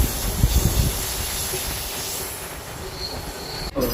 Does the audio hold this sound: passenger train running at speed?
yes